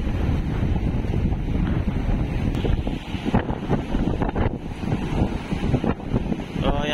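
Super typhoon winds batter a harbour at Dinahican, Infanta, Quezon, with loud, constant roaring gusts buffeting the microphone over crashing sea waves, sustained throughout.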